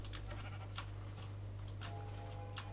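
Sheep bleating in the video game Chicken Hunter, a few short, close bleats over a steady low game hum.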